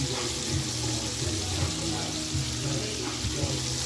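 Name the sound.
catfish nuggets frying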